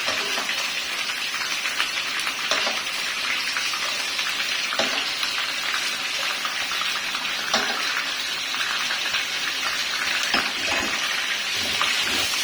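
Chicken pieces frying in plenty of oil in a karahi, a dense, steady hiss and crackle of sizzling that holds at an even level throughout, with faint occasional stirring and no talk.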